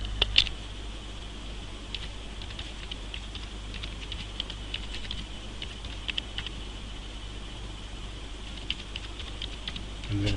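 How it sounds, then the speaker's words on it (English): Light typing on a computer keyboard, a steady run of soft, quiet key clicks spread across the whole stretch, with no talking. "I'm going to type in the word report on the end."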